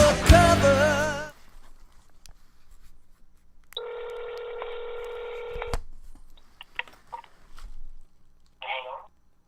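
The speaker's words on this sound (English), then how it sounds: "I don't think your phone's working, Reggie." Telephone keypad tones on a landline: a two-second steady dialing tone, then a few faint clicks and a short warbling tone. Loud music fades out at the start.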